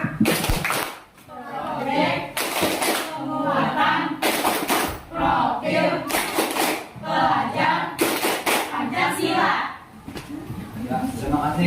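A classroom group performs a patterned clapping ice-breaker, bursts of sharp, loud unison claps recurring in a regular rhythm roughly every two seconds, alternating with voices chanting or speaking between them.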